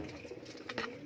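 Salara teddy pigeons give soft, low cooing, close and steady, over a brief stretch with a slight rise near the end.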